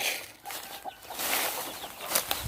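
Chickens cluck close by while being fed, with soft rustling and a brief burst of wing flapping in a noisy outdoor setting.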